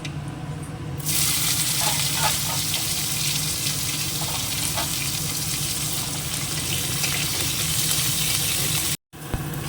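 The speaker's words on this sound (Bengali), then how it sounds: "একটু উচ্ছেটা ভালো করে আগে ভেজে নিলাম" Bitter gourd (uchhe) frying in a pan, a loud steady hiss that starts abruptly after a second and continues with faint stirring clicks before cutting out briefly near the end.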